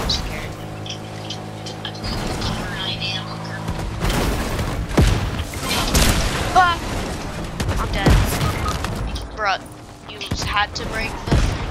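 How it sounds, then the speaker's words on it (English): Fortnite gunfire during an assassin challenge match: rapid bursts and booming shots crackle through busy game sound effects, with players talking throughout. "I'm getting shot from behind"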